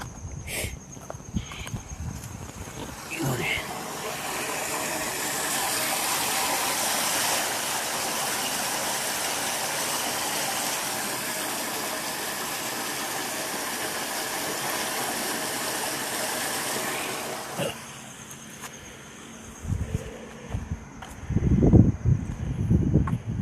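Water rushes steadily through a chemically polluted stream near Bhashettihalli, a continuous loud gushing roar for most of the stretch, with footsteps and some rustling near the start and end.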